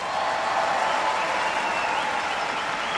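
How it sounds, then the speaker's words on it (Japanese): An arena crowd at the 1994 Lillehammer Olympics figure skating applauds a skater taking the ice, a dense, continuous roar of clapping that fills the hall without a break. "場内のこの拍手をお聞きください。"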